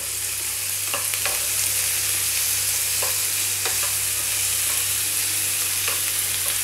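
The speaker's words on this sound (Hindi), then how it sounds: "तेल हमारा बढ़िया से गर्म हो चुका है अब हम सबसे पहले इसमें एक बड़ा साइज का प्याज बारीक कटा हुआ डाल देंगे" Finely chopped large onion frying in hot oil, a loud, steady close sizzle that runs throughout, broken by a few brief scraping clicks as a spoon stirs the pan, with no one talking.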